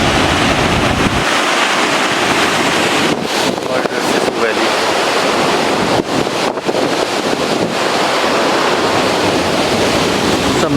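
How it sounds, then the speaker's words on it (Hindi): Glacier meltwater stream in Shishu valley near Jispa, Ladakh region, rushing steadily as a loud, continuous broadband roar, with wind buffeting the microphone throughout. "ग्लेशियर से पानी पिघल के आता हुआ।"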